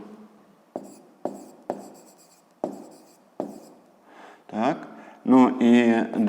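Marker or pen strokes writing a math expression for a 5th-grade exercise, a series of sharp separate taps and scratches at a steady pace, followed by someone speaking near the end.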